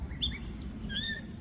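Bird in a park giving a few short, bright chirps, one near 0.2 seconds and a quick cluster near 1 second, over a low murmur of outdoor ambience.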